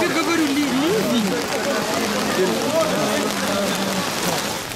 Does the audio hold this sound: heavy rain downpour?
yes